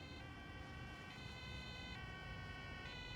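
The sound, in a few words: ambulance siren arriving at accident scene, from a video game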